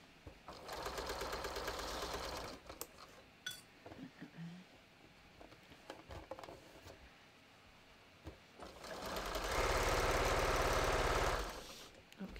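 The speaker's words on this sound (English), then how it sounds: "So I'm going to sew this using just the side of my presser foot as a guide." A home sewing machine sews a bathrobe seam in two bursts, a steady close whir for about two seconds, then quieter handling clicks and rustles, then a longer, louder run near the end.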